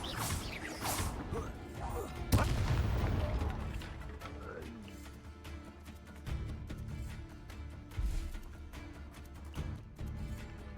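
Confringo fire spells blast in Hogwarts Legacy: sharp crashing impacts with whooshes and rumbling debris, one heavy hit standing out among scattered bangs, with faint game voices in the mix.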